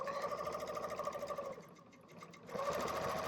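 A serger sewing machine runs in quick rhythmic bursts, stopping for about a second midway before starting again, close and fairly quiet with no talk over it.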